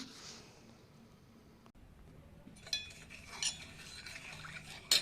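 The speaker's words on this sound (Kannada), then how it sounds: "ಈಗ ಚೆನ್ನಾಗಿ ಮಿಕ್ಸ್ ಮಾಡೋಣ." Akkachu drink being stirred with jaggery and cardamom powder, a spoon clinking softly against the vessel in a few light taps over a quiet background.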